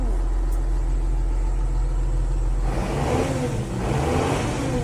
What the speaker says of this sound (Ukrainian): Двигун, як на мене, працює просто топчик.